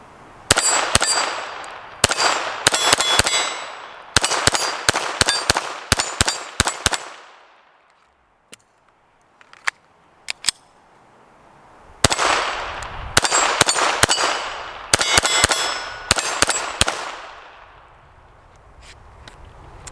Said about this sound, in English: So let's see if I can shoot somewhat quickly. I'm going to put a couple rounds on each target and just kind of work like left to right basically.